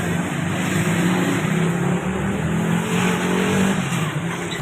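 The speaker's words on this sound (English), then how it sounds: "The noise of scooters everywhere." Dense, continuous street traffic in Raja Bazar, Rawalpindi roars with buzzing scooter engines and revving motors, a constant loud wash of vehicle noise with no pauses.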